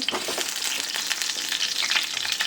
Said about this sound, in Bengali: এবার আলু ভাজতে শুরু করে দেবো, এই যে আলু ভাজছি